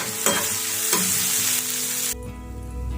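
Onions frying in oil with salt for a prawn gravy, a bright close sizzle with a few quick stirring scrapes, before the sound shifts abruptly to a duller, lower frying hiss.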